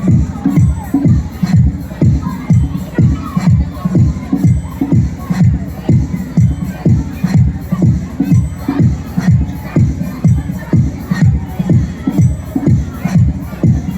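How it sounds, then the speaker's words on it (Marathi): A crowd claps loudly in steady rhythmic unison, beats coming about twice a second without pause, with some crowd noise mixed in, at a promotion event for a Marathi web series. "एका जोरदार टाळ्या आपण सर्वांनी देऊ यांच्यासाठी"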